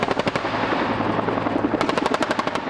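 Two Cobra attack helicopters fire 20mm machine guns in rapid, continuous bursts over the steady roar of the rotors, loud and close, with no talk.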